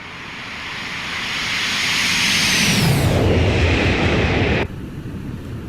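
A Boeing 727 airliner making a flyby: a jet roar swells steadily toward a loud peak as it passes, then the pitch drops and the sound cuts off abruptly near the end.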